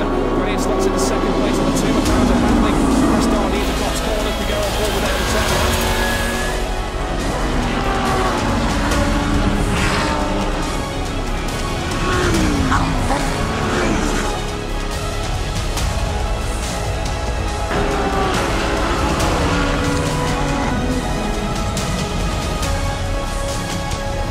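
GT Open race cars roaring around Silverstone at a race start, engines howling and shifting up and down in a dense, continuous wall of sound, with commentary talking over it throughout.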